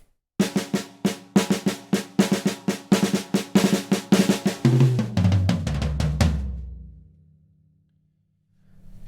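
A fast Herta drum fill of rapid, evenly spaced hits that speeds up into a rolling run down the toms, ending on a low boom, then silence.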